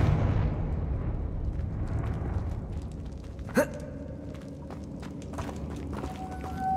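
A Confringo fire spell goes off in Hogwarts Legacy: one sharp, bright blast partway through, set against a low ambient rumble and scattered softer game sounds.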